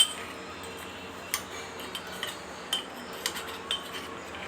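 A spoon scrapes crushed kadha spices out of a container, making quiet, scattered metallic clinks and scrapes at an irregular pace, close by and otherwise fairly hushed.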